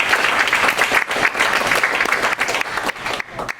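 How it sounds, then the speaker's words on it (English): An audience at a lecture applauds steadily, a dense wash of many hands clapping at once that thins slightly toward the end. "if we could all give him a round of applause"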